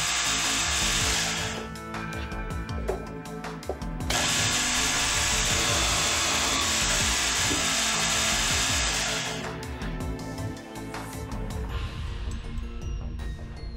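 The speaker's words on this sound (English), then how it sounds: "Now end boring can be completed for the tops and bottoms." Gannomat DB 21 dowel boring machine end boring cabinet tops and bottoms, a loud steady high whine of drilling running in two long bursts with mechanical clunks and rattles between them.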